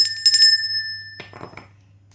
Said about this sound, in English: My kids always know when my readings are done because they hear the bell like going mental to clear out all of the